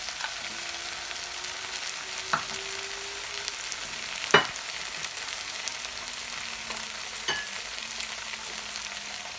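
Ginger garlic paste added to browned onions in a pan for mutton black pepper roast makes a soft, steady frying hiss, with a few sharp spoon clicks scattered through it.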